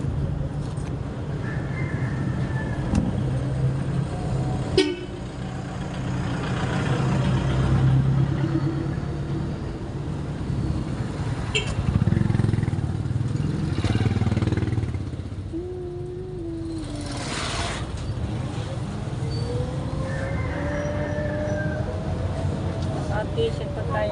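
A car is driven along a road, its engine and tyre rumble steady and close inside the cabin, with a few knocks and a soft horn-like tone, under someone talking throughout.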